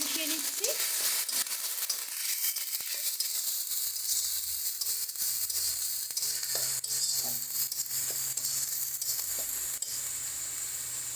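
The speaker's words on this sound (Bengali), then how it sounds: "চলো ভালো করে সমস্ত মশলাগুলোকে মিশিয়ে নিচ্ছি।" Green chili and ginger paste sizzles in hot oil while being stirred for a brinjal dish, a steady close crackling hiss with scraping strokes and a low hum underneath.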